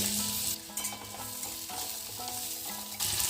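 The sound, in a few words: onions frying in oil in a wok (karai)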